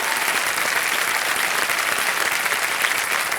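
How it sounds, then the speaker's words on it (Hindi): A studio audience on a Hindi television quiz show breaks into loud, dense applause. It stays steady and even for a few seconds, with no voices heard. "जोरदार तालियां बज जाए इनके लिए।"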